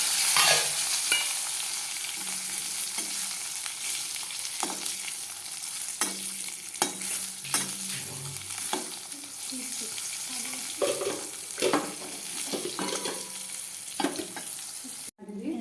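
Eggplant pieces and nigella seeds frying in hot oil, a steady soft sizzle broken by repeated scrapes and clacks of a stirring spoon in the pan.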